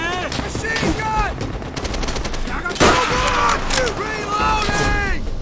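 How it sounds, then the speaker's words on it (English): Sustained automatic machine gun fire from a World War II battle in the video game Call of Duty: World at War, rapid bursts with a loud blast near the middle, soldiers shouting over the gunfire. "Machine gun!"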